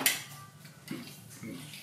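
Spoon clinks and scrapes against a bowl while food is mixed at home in a kitchen, a few soft irregular taps close by, quiet and brief.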